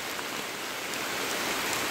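Steady, dense monsoon rain in rural Konkan, Dodamarg, patters loudly on surfaces with no pauses, an even wash of sound throughout.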